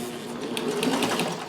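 A sewing machine with a walking foot attachment stitching heavy fabric, running in a steady rapid mechanical clatter of even stitches, close and alone.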